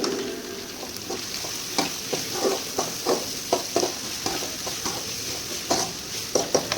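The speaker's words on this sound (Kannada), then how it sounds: "ಸಣ್ಣ ಸಣ್ಣದಾಗಿ ಬೀನ್ಸು ಮತ್ತು ಕ್ಯಾರೆಟು, ಅದನ್ನು ಸಹ ಇಲ್ಲಿ ಆ್ಯಡ್ ಮಾಡಿಕೊಂಡು ಮಿಕ್ಸ್ ಮಾಡ್ಕೊತಾ ಇದ್ದೀನಿ" Chopped beans and carrots are stirred in a pan with a spoon, giving repeated scraping, clattering strokes over a soft, continuous sizzle, close and moderately loud with no talk.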